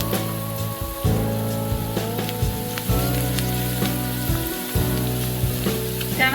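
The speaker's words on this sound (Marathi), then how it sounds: "आता हे व्यवस्थित परतून घ्यायचं आहे।" Garam masala, coriander powder, kokum and turmeric sauté in hot oil, a loud close sizzle with repeated spoon scrapes and stirs at a fairly regular pace.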